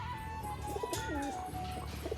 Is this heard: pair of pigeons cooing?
yes